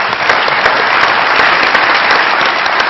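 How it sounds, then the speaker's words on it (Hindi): A studio audience at a comedy show breaks into loud, dense applause, a sustained roar of many hands clapping close up with no voices over it. "बहुत सारी तालियां मैडम के लिए।"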